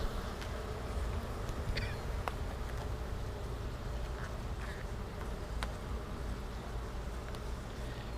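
Honey bees buzz thickly around an open hive, a dense continuous drone with individual insects whining past nearby now and then.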